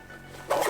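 The zipper on a OneTigris chest rig utility pouch closes over an iPhone 13, a single short, rasping zip pull that comes at the end after a brief quiet moment.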